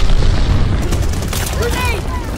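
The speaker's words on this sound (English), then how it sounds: "Incoming grenade!" A grenade explodes in the Call of Duty: Vanguard game, a loud booming blast with a rumbling tail that fades over a couple of seconds amid the game's noise.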